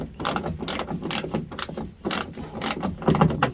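A ratchet clicks rapidly in bursts while tightening a fastener on a fender flare for a 2016-2021 Toyota Tacoma, sharp close metallic ratcheting strokes repeated several times without talk.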